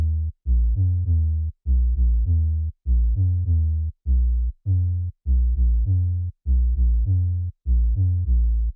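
A rhythmic 808 bass pattern from FL Studio plays loud and alone, short deep punchy notes in groups of two to four with brief gaps, repeating steadily for several bars.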